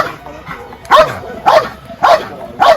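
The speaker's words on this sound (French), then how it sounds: "Il l'identifie par l'aboiement." A Malinois at a mondioring trial barks at the decoy, four loud, close, evenly spaced barks about half a second apart.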